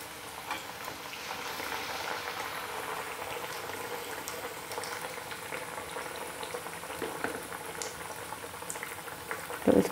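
Potato bird's nest snacks fry in hot oil in a kadhai, giving a steady, dense bubbling sizzle for the whole stretch with a brief louder spatter at the very end.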